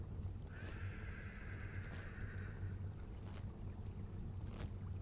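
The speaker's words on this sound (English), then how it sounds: "I wish that horse would stop." A horse whinnies faintly in the Rising World video game, a brief high neigh that rises out of steady low background noise while no one speaks.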